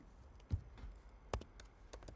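Computer keyboard keys clicking in short, sparse bursts, with two sharper, louder strikes standing out among softer taps, quiet and close with no talking.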